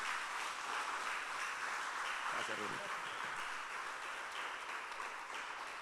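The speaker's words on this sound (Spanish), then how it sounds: "Dele un aplauso entonces al Señor." A church congregation applauds as a dense, steady wash of clapping that continues throughout, fairly loud, with a brief voice surfacing partway through.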